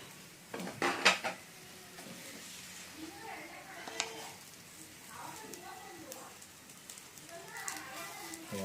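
Metal plate clattering onto a gas grill, with a couple of loud clanks early on followed by lighter scrapes and knocks as it settles, while someone talks over it.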